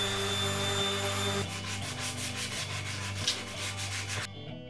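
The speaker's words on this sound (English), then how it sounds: "Now I'm going to do a little finish sanding." Finish sanding by hand on the wooden body of an acoustic-electric Tele-style guitar. A steady close rubbing scratch sounds over a constant low machine hum, in quick repeated back-and-forth strokes. There is no talking.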